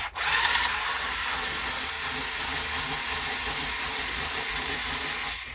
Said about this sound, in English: Alright, let's get these screws out.